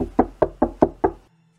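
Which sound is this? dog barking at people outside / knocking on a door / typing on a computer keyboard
knocking on a door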